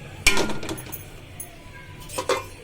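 A lid is set down on a pot of zarda semai, the sweet vermicelli dish, cooking over low heat: a sharp metallic clink followed by a smaller rattle, then a second lighter clink a couple of seconds later, close by in a quiet kitchen.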